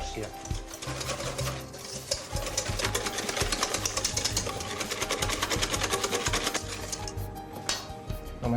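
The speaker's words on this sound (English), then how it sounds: "I pour onto my egg yolks. I mix vigorously to avoid cooking the yolks." Egg yolks and granulated sugar are whisked vigorously in a bowl. A dense, fast, continuous rattling runs through most of the stretch and eases slightly near the end.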